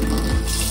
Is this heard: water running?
yes